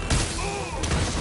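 Gunshots in Spider-Man on PS4 come as two loud, close bursts about a second apart, with a whining tone between them and dense action noise throughout.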